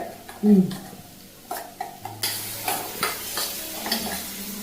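Liquid is poured into a hot pan of Kerala-style duck roast, bringing a burst of sizzling followed by scraping stir strokes and light metal clatter over several seconds.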